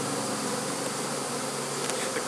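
A honey bee swarm buzzes outdoors, a thick continuous drone of many wings close by, steady and loud from start to finish with no voices.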